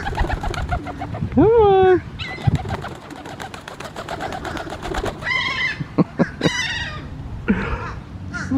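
A very large, heavy pigeon coos and warbles close by in several short calls, with a person talking softly to the bird over it.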